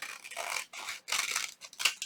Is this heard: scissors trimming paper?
yes